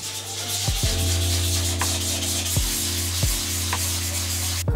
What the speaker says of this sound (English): wrapping sandpaper around it is a good way to get into the corners of those ridges